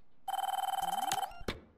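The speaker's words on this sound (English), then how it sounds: "Oh, phone's ringing." A phone in a FNAF fan-made horror game rings with a fast electronic trill, a bright, even burst for about a second, then breaks off with a click.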